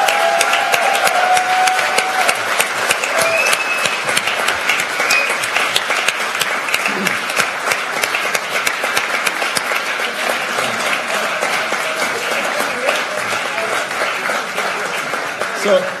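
An audience applauds at the ISU SSP18 closing ceremony, thanking the program staff with loud, dense, sustained clapping that continues steadily for the full stretch without a pause.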